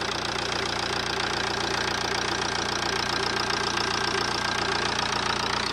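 A Ford Transit Connect diesel engine idles steadily after an injector seal change, its dense mechanical clatter loud, close and continuous without a break.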